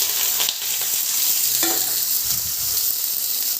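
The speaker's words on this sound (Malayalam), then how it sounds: "കടുക് പൊട്ടിയിട്ടുണ്ട്" Mustard seeds pop and splutter in hot coconut oil for a Kerala sadhya-style dish, a dense, loud crackling sizzle with a few stirring scrapes, close and without speech.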